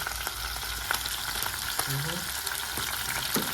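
Oil sizzles and crackles steadily as fish fries in a pot, Jamaican-style, with a few brief clicks and a faint bump of utensils near the end.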